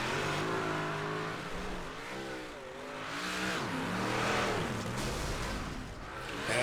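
Big-block modified race cars in iRacing at a Chili Bowl event, with loud engines revving and surging through the corners and pitch sweeping up and down as they accelerate, plus occasional tire spin.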